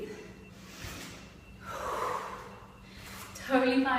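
Heavy breathing from someone mid-workout in a combined yoga flow and HIIT session: a long audible exhale swells in the middle, then sharp gasping breaths cut in near the end, with faint room noise throughout.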